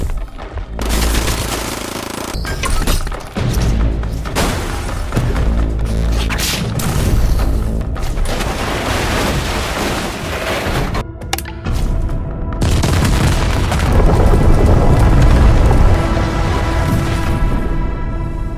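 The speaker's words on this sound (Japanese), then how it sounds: "爆発音の響く中" Explosions and heavy gunfire fill a Terminator-style anime battle, with loud booms, rapid bursts and crashing impacts in dense succession, no speech.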